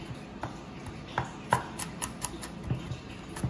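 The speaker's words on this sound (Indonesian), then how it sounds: "Saya ada punya 3 siung bawang putih, kita koprek, kita cincang halus." A knife finely chops garlic cloves on a board, making quiet, close, irregular taps that come in quick clusters.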